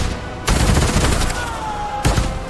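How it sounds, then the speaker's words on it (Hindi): Gunfire in a 2D animated depiction of a close-range shooting in a crowd: two sudden, loud, sharp blasts about a second and a half apart, the first trailing into a rattling echo. "गोलियों की आवाज ने सब कुछ बदल दिया"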